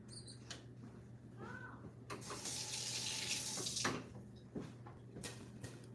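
Water runs from a kitchen tap for a few seconds as a pot is topped up while shrimp scampi is being cooked, a steady hiss preceded by brief clinks and handling noises.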